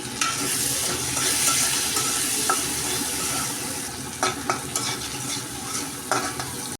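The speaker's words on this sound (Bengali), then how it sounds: "গাজর একটু ভাজা হয়ে আসছে এখন দিয়ে দেবো টমেটো কুচি" Chopped carrot and tomato fry for pasta in a pan with a steady loud sizzle, and a few stirring scrapes come through near the end.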